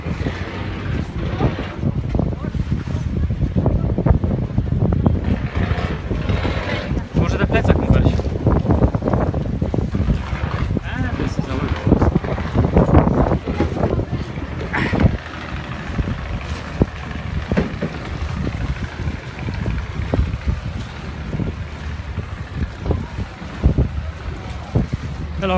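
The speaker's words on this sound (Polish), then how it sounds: "This is our boat." A boat travels from Boracay toward Moalboal, starting in port, with steady wind buffeting the microphone over a continuous low engine and water rumble, and muffled voices now and then.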